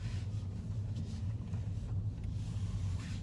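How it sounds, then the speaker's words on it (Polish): Steady low road roar of tires rolling on pavement heard from inside a quiet Toyota Corolla hybrid driving in electric-only mode, with no engine sound rising above it. "Nie słychać nic oprócz szumu opon."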